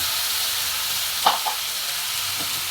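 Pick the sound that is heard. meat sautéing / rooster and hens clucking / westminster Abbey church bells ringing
meat sautéing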